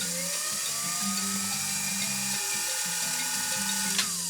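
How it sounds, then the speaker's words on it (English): A PFAFF 360 sewing machine runs with its balance wheel spinning while the needle stays still, set up for bobbin winding: a steady mechanical whir with rhythmic gear ticking, close and continuous throughout. "you're going to see the balance wheel spinning, but you won't see the needle spinning."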